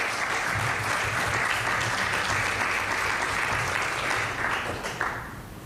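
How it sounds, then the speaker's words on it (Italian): Loud, dense applause from a group gathered at an Italian public event, steady and sustained throughout before tapering slightly at the end, with faint voices underneath. "Un applauso ragazzi"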